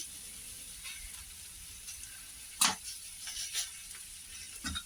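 Masala pav toasting on a hot pan gives a faint, steady sizzle, broken by a few brief scrapes and soft clinks as the bread is turned, with no talking.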